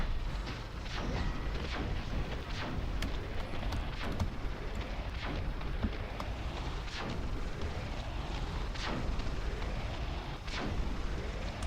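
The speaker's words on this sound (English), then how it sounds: "Okay, cannon." Cannon fire in the strategy game Defense Task Force booms repeatedly at a fairly regular pace, roughly once every second, over continuous battle noise with no talking.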